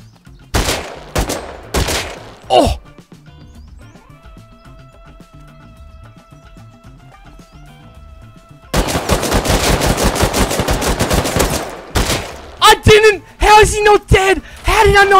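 Gunfire in a headshot-only shooter video game. Brief voices come first, then a quieter stretch with tonal game sounds, then a loud, rapid automatic burst followed by several separate sharp shots.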